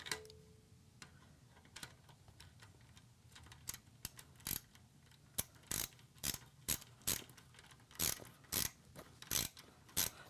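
Ratchet clicks ring out as hand tools tighten the exhaust link pipe on a Honda CB1000R during an SC Project exhaust install, a 10 mm fitting replacing the stock 12 mm; sharp, close clicks come in quickening bursts toward the end.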